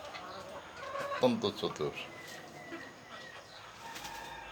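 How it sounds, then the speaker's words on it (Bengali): A rooster and chickens on a small poultry farm clucking and cooing in a short burst, fairly faint, with someone talking briefly over them. "দেখেন মোরগ, চতুর মোরগ"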